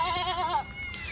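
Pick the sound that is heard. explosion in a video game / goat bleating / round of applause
goat bleating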